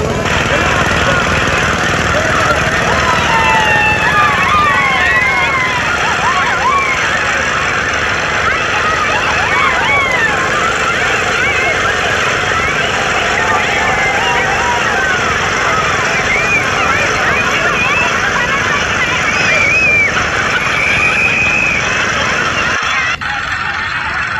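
A boat engine drones steadily and loudly throughout a boat ride on the water, a constant mechanical rumble with no pauses and no speech over it.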